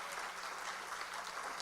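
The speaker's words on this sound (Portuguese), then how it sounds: "Vale as palmas." Audience applause at a panel discussion on leadership and networking, a steady, dense wash of clapping from a crowd, fairly faint and distant throughout.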